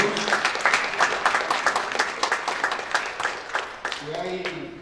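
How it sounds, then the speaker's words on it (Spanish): Students in an agronomy class applaud their classmates after a project presentation, a brisk, moderately dense round of clapping with distinct individual claps, fading near the end as a voice begins. "Les pido un aplauso para los compañeros."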